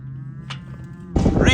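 A cow on a farm gives a short, nasal moo as her calf is returned to her, followed by a brief rustle and a sudden burst of broadband shuffling noise close by.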